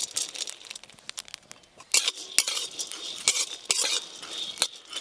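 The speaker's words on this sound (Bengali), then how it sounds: "মুসুরির ডাল ভালো করে জল দিয়ে ধুয়ে জল শুকিয়ে নিয়েছি, এটা কোড়াতে একটু ভালো করে নেড়ে নেব।" Washed, dried masoor lentils being stirred in a kadai, a spoon scraping and clinking against the metal in quick irregular strokes that grow louder and busier partway through, with no voices.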